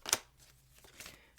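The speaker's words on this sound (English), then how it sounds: "So let's just get a couple good shuffles in here" Tarot cards are shuffled in two or three short, crisp riffles separated by quiet pauses, close up and with no voices.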